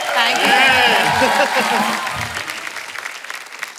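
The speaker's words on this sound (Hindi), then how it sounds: "जोरदार तालियां कृति के लिए।" Studio audience applause for a guest on an Indian TV comedy show, with a loud burst of clapping and cheering under a voice, tapering off toward the end.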